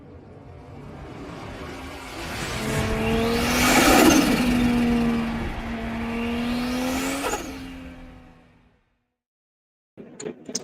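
A car drives past on the way back from Spa in Belgium, its engine rising and falling through gear changes as it approaches, passes close by and fades before a short burst of other noise at the end.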